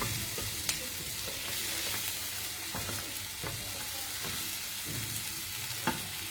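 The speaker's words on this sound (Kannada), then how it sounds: "ಟೊಮೆಟೊ ಎಲ್ಲ ಬೆಂದಿದೆ, ಮ್ಯಾಶ್ ಆಗ್ತಾ ಇದೆ" Tomatoes sizzling and frying in a flat kadai while being mashed, a continuous soft crackle broken by repeated scraping and pressing taps close by.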